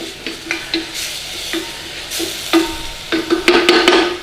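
A spoon stirs onions and garlic seasoned with salt and pepper in a pan, making a string of short scraping strokes over a soft sizzle, close and fairly loud, with no talking.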